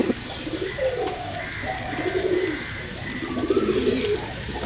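A pigeon coos softly while feeding, with several low, rolling coos at close range and brief pauses between them.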